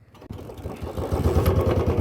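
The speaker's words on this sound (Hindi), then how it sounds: "ये हमने किक लगा दी, अब हमारी बाइक जो है स्टार्ट हो गई" A Royal Enfield Bullet motorcycle after a kick start, its single-cylinder engine settling into a steady, thumping idle that stays loud and close throughout with no talk over it.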